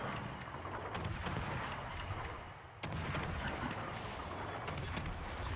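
Warship guns booming in a naval battle game, a near, loud, continuous volley of heavy blasts with sharp reports at intervals over a rumbling background, no talking.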